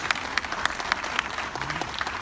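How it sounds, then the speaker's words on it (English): Crowd applause at an outdoor No Ban No Wall rally in Claremont, California: steady, dense clapping from many people with a few sharper individual claps standing out, continuous throughout. "please give them a round of applause"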